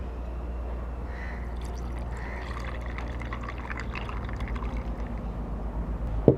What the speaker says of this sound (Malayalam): ഇനി നമുക്ക് ബാക്കിയുള്ള പാലും കൂടി ഇതിലേക്ക് ഒഴിക്കാം.